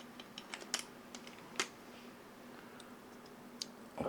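Faint plastic clicks and ticks of a keycap being flipped around and pressed back onto the switch of a white Razer BlackWidow V4 75% mechanical keyboard, a scattered series of small, quiet snaps over low background hum.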